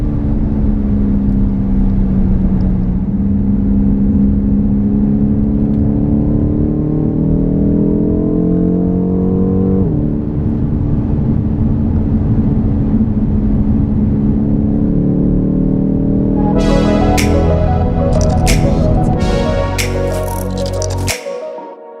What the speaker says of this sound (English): the acceleration just goes on and on and on